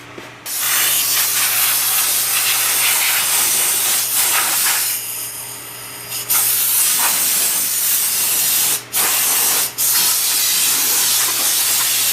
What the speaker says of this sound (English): let me go grab my air hose